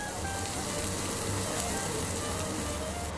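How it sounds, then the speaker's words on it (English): Meat and fish sizzle loudly and steadily on a robatayaki grill, sirloin and lamb chop among them, producing a dense unbroken crackle heard up close with no break. "Listen to it sizzle."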